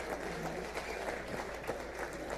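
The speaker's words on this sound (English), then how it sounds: "Another round of applause for our speaker." An audience claps for a speaker at a legislative retreat for National Assembly members, with dense, sustained applause and faint crowd murmur.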